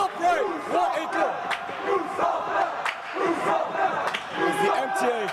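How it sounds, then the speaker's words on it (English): A loud crowd of MTA fans shouting and cheering at a varsity high school hockey game, a continuous roar of overlapping voices with rising yells and bursts. "The MTA crowd is getting a little bit loud."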